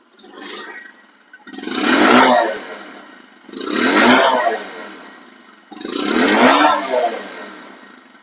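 A Bajaj Discover 125cc motorcycle engine revs three times in a row, each rev swelling loud and close then falling back to a rough idle between them.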